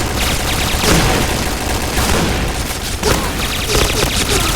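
Repeated booming grenade blasts and bursts of gunfire in the video game Point Blank, loud and close, spaced a second or so apart, with a voice exclaiming over them.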